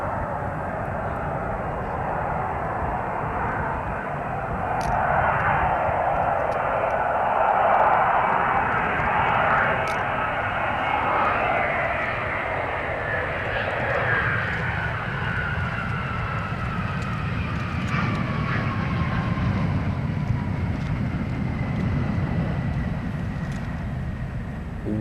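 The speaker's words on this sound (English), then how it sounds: "Wonderful aircraft, the Victor." A Handley Page Victor jet bomber roars past overhead, a broad, sustained whooshing rumble that swells and slowly shifts in pitch as it passes, with no voices.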